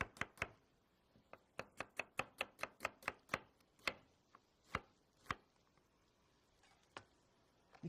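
A knife chopping an onion on a board, crisp evenly spaced cuts in a quick run that slows into scattered strokes, close and clear with no talking.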